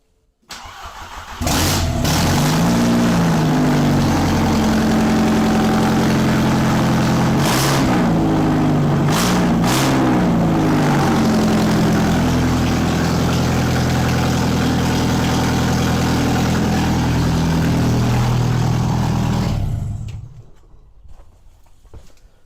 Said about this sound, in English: when I turn the key off, the engine still runs